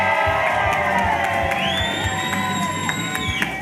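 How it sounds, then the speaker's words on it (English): A crowd at a community outreach session cheers, shouts and whoops loudly and continuously, with a few whistles rising above the dense roar. "y'all make some noise up in here, everybody"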